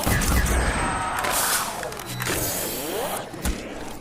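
Ray gun firing at a horde of zombies in a Call of Duty Zombies map, a loud, continuous wash of sci-fi energy blasts with swooping zaps and thuds layered over game noise, no talk.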